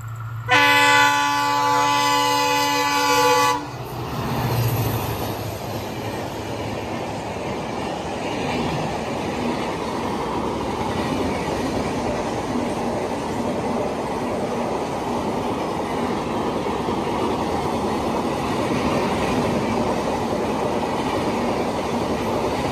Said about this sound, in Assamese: ট্ৰেইনখন আহিছে বিৰাট বেগত আহি আছে